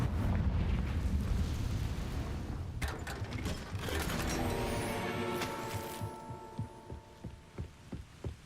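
A Confringo fire spell bursts in Hogwarts Legacy, a dense low rumbling blast that rolls on for several seconds and then breaks into scattered crackling and popping debris as it fades.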